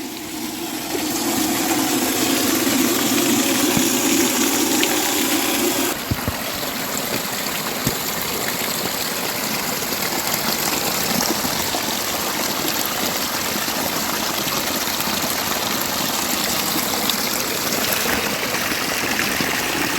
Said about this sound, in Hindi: ये आ गया फर्स्ट पानी का धारा, पीने का पानी है ये